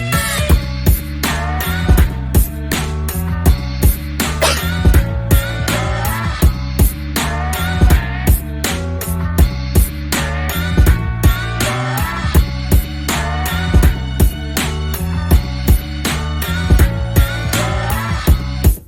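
A steady boom-bap drum groove with thumping kicks, cracking snares and tight closed hats, no open hi-hat, over a melodic backing.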